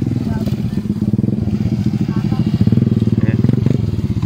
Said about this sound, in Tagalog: Kita mo naman gaano kastig ang mga motor dito.